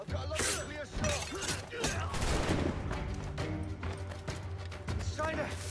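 Gunfire in Assassin's Creed IV: Black Flag, a dense battle of sharp shots and crashes that keeps going over constant background game noise and music, with excited voices talking throughout.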